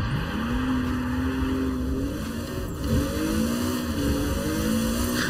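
A steady engine drone in Forza Horizon 4 from a Fairlady Z with a 2GZ Supra engine, pitch rising and falling as it revs and cruises, continuous and close throughout with no talking.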